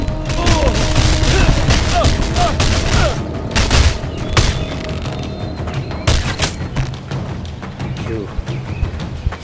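Gunfire in the VR game Blade and Sorcery comes as dense bursts of loud, close shots and booms, with scattered single cracks, echoing impacts and a voice speaking in between.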